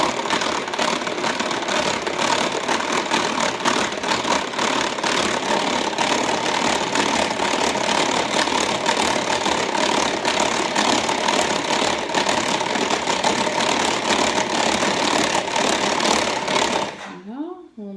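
Electric mixer whirring steadily at its lowest speed while whisking mayonnaise, a continuous buzzing motor drone running nearly the whole time and stopping abruptly at the end.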